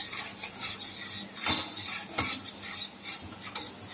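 Onions with turmeric and coriander powder being roasted and stirred in a pan: close, rhythmic spoon scrapes and clinks against the metal over a soft, continuous sizzle, with no voices.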